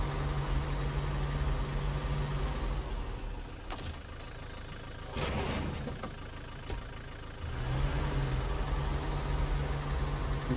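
A heavy truck's diesel engine idles in the snowy mountain terrain of Snowrunner, a steady low rumble that drops away briefly in the middle amid a few clunks and hisses, then returns at the same even level.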